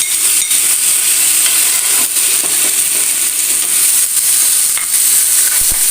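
Chopped onion, tomato and garlic sauté in a hot pan for a chutney, giving a steady, close sizzle with faint stirring scrapes throughout.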